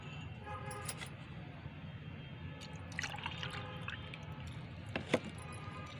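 Tea-leaf liquid fertilizer being strained, with faint trickling and dripping of liquid and a few light clinks, quiet and close, against a low steady background.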